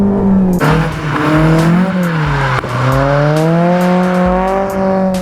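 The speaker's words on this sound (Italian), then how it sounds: "Il suono degli ITB ti entra nelle ossa" A high-revving Toyota AE86 engine with individual throttle bodies screams close by, its pitch rising and dipping through gear changes and throttle lifts, with tire noise during a drift.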